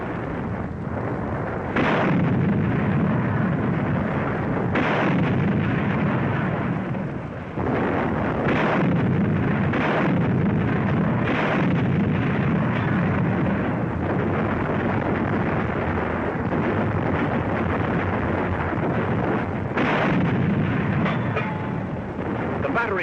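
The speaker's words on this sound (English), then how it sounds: "British 25-pounders open up." British 25-pounder artillery guns fire in 1943 North Africa, a series of heavy booming shots at irregular intervals over a constant rumbling background, with a narrator's voice speaking over parts of it.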